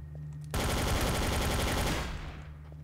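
Automatic weapon fire in the game Trouble in Terrorist Town, a sudden loud sustained burst of rapid shots lasting about a second and a half before fading, close and alone.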